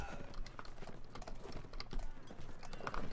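Cavalry horses galloping in a Mount & Blade Warband mod battle, rapid overlapping hoof clatter with scattered knocks and clanks of combat, dense and close for the whole stretch.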